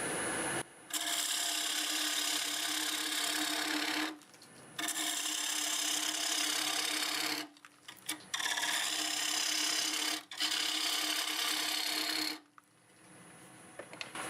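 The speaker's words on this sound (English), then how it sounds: "I'm going to use the 1/2-inch bowl gouge just to get it rounded out on the inside." A half-inch bowl gouge rounds out the inside of a wooden bowl on a lathe spinning near 1039 RPM, making loud, close scraping and cutting passes in four long bursts separated by brief quiet gaps.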